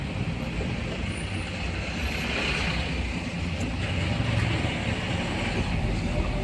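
A truck drives through a rainwater stream on a mountain road near Pithoragarh, a steady rumbling engine and broad watery wash heard fairly close and continuous, with a swelling rush partway through.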